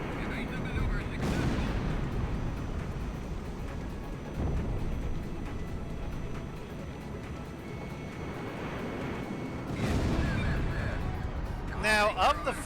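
Bombs dropped from aircraft burst in the Ace Combat X video game, two heavy booming explosions around the start and near ten seconds over a constant jet engine roar, with brief crackling at the end.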